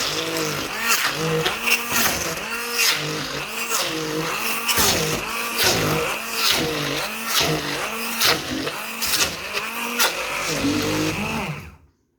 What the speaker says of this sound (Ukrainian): Сир збиваю блендером.